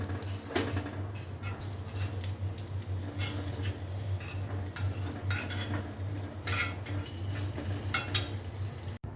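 Sweet potato kuzhi paniyaram fry in a pitted paniyaram pan as each is turned over, soft sizzling under repeated light scraping and clicking taps of the turning tool, steady and close throughout.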